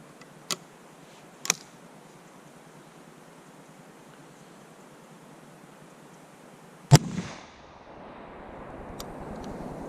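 A Charles Daly 101 single-shot 12-gauge shotgun fires a 3-inch turkey load: one loud, sharp blast that rings off into rumble, preceded by two fainter clicks of handling.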